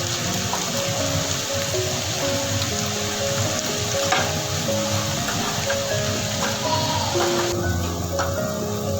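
Vegetables frying in a pan give a steady, loud sizzle throughout, with a faint stirring scrape and a tonal hum running beneath it.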